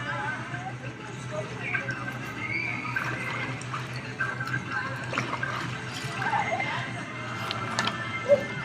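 A swimmer pulls one arm through pool water, giving soft sloshing and light splashes with a few sharper drips, fairly quiet over a faint wash of background noise.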